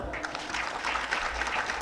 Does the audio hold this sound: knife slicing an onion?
no